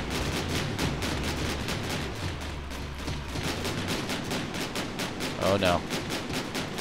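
Weapon fire batters a player's battle car in the vehicle-combat game Scraps, a dense stream of rapid gunshot-like bursts and impacts running throughout, with a brief sharper hit near the end and a voice speaking briefly over it.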